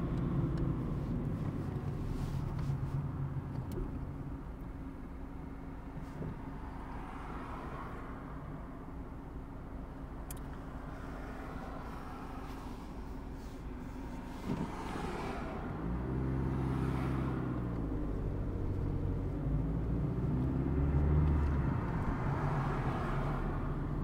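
A car hums steadily from inside the cabin during a driving lesson, a low, even engine and road drone with a slight rise toward the end and no talk.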